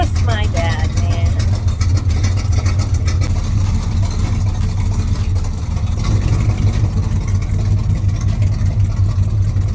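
A 1971 Chevrolet El Camino with a 383 V8 and four-speed runs close by with a loud, steady, deep rumbling idle, while a person talks over the engine.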